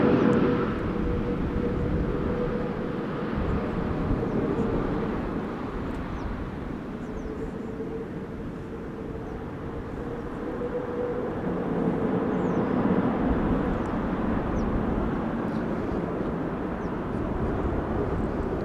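Airliner noise from a Kuwait Airways Airbus A330neo arriving at Schiphol Airport: a steady, broad jet-engine roar that swells slightly and holds throughout, with no speech.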